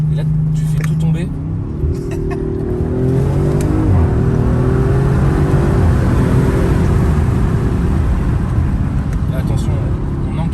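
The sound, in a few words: high-powered 600 horsepower car accelerating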